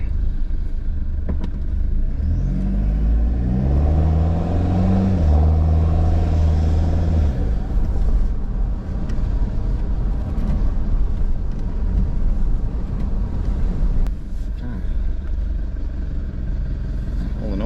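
A Toyota Prado with upgraded 400 kg rear suspension and an adjustable Panhard rod drives along a road, giving a continuous low rumble from inside the cabin, with engine tones rising and settling early on under steady road noise.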